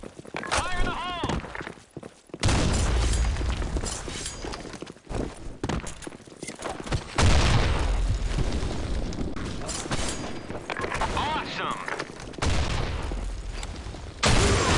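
Gunfire and a grenade blast ring out in the Blackshot shooter on the Xitang map: loud bursts of shots and heavy booms with footsteps between them, and voices call out over the action.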